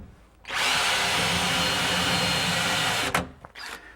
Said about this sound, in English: The first thing I'm going to do is drill a hole right on that center line.